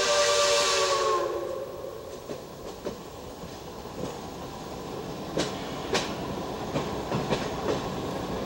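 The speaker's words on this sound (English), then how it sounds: "The train is now blowing its whistle for a side road up the mountain." A steam train whistle blows loudly at the start for a mountain road crossing, then fades into hissing and scattered clanks of rolling rail cars.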